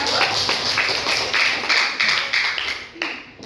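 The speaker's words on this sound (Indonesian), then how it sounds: "Tepuk tangan dulu dong untuk Anindita" Classroom of seventh-grade students at a junior high school clapping for a classmate, a short burst of close, sharp handclaps from a small group that fades out within a few seconds.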